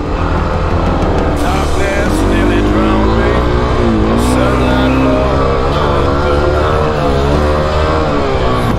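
A Suzuki DRZ400 dirt bike engine labours up a hill in second gear, a loud, continuous close-up drone whose pitch rises and wavers as the revs climb, with wind buffeting the microphone.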